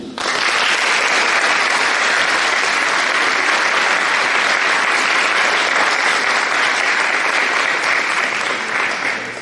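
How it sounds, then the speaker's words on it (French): A large audience applauds at a school ceremony for a CPGE preparatory class, a dense, loud, continuous roar of clapping that holds steady from start to finish with no talking over it. "Il s'agit bien entendu de Jean-Luc Lès, que je vous demande d'applaudir."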